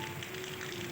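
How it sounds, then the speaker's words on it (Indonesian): Steady rain falling outside at night, a dense, even hiss of drops on a surface that runs without break through the short stretch, with no voice over it. "Di luar turun hujan."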